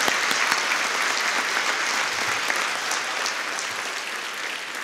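Steady, dense applause fills a West Covina State of the City gathering as the crowd honors Engine 5 and Rescue 4, loud and sustained throughout with no clear voices on top.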